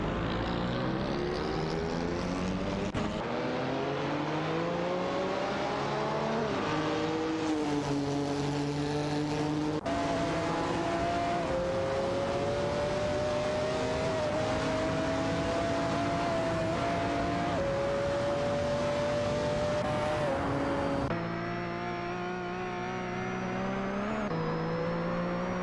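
Race cars in an AI racing video game, including a Ferrari, roar past with rising and falling engine pitch, continuous and loud, shifting as cars pass and change gear, with no voices.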